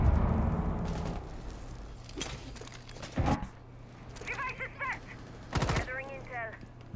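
Gunfire in a competitive Rainbow Six Siege tournament match, short bursts of shots popping out at intervals over a steady game background with a commentator talking throughout.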